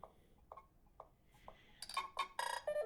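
Soft evenly spaced ticks give way to a burst of bright, chiming electronic tones, a short custom Nothing Phone 2 alert pattern.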